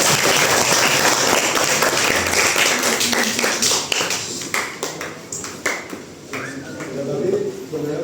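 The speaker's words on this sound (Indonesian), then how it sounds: "Tepuk tangan. Tepuk tangan," A group of people clap together in a classroom-style gathering, a dense burst of applause that thins into scattered individual claps, with voices talking over it.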